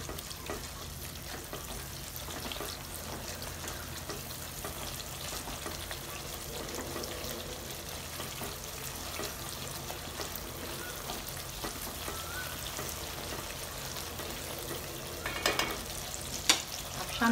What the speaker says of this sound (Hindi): 2 से 3 मिनट हम इसको भी भूनेंगे अदरक लहसुन को प्याज के साथ।